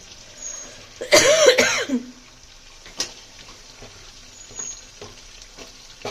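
Potatoes frying in hot oil in a pan, a low, steady sizzle with a loud cough near the start and a few sharp clicks later.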